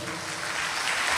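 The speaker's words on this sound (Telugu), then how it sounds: "గట్టిగా చప్పట్లు." A church congregation clapping loudly during a sermon, a dense, steady wash of many hands close by with no pause over the short stretch.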